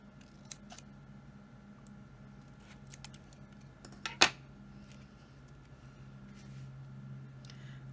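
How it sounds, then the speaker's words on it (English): Scissors cutting card for a birthday banner, a few quiet snips early on and then one sharp, distinct cut near the middle, close against a faint low background hum. "I'm going to just cut in on either side to the middle"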